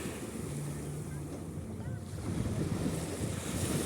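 Sea waves wash onto the beach at Cannes on the French Riviera, a steady, broad surf roar with heavy wind buffeting on the microphone and a faint low engine hum in the background.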